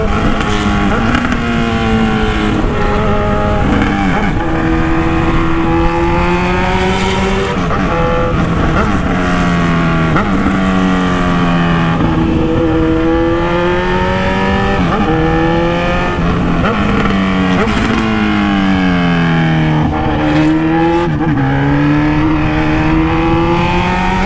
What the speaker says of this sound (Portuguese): Tô andando com a moto há muito tempo.